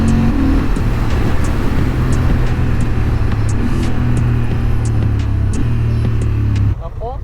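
A 2023 Honda Hornet CB750 roadster motorcycle on the move gives a steady, close engine drone with wind rush and a low rumble, cutting off abruptly near the end.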